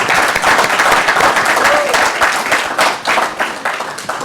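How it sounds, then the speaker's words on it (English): Audience applause at a public symposium on immigration and safety in Boston, loud and close with distinct individual claps forming a dense, lively patter that swells and dips slightly without pause. "give her a big round of applause"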